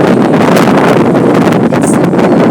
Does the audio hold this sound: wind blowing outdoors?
yes